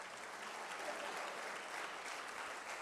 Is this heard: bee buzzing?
no